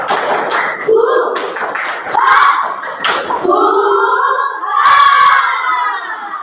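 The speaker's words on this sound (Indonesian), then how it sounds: "Coba tepuk semangat dulu. Tepuk semangat." A classroom group doing the tepuk semangat clapping chant: voices shout the rhythmic chant together, clearly pitched like young people, while bursts of claps and taps punctuate the loud, close, energetic call.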